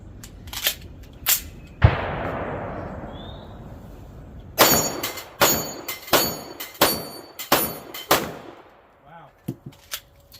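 Rapid pistol shots from an RIA M1911 with a newly replaced extractor, fired outdoors: a loud single shot with long reverberant decay, then a quick string of about seven sharp reports with metallic clangs of steel targets being hit.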